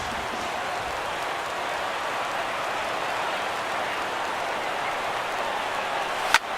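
A packed baseball stadium crowd of over 39,000 at a Tigers at Yankees playoff game roars on its feet in a sustained, even wash of cheering, heard from a distance without clear voices.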